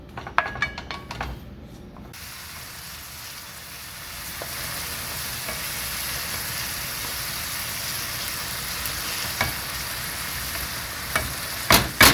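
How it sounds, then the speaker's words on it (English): Jalapeños sautéing in a pan, a steady close sizzle and hiss that builds after a few opening clatters of a utensil, with occasional stirring scrapes. "we're going to go ahead and we're going to saute this a little bit"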